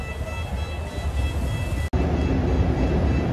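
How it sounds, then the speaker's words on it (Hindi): A passenger train pulls into a station in Cairo, Egypt, its steady broadband rumble and rail noise filling the platform, with a brief dropout midway before the loud rolling continues. "अभी ये ट्रेन आ चुकी है स्टेशन पे"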